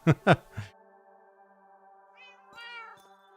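In a Minecraft game, a cat meows a couple of times over a steady electronic tone, following brief talking at the start.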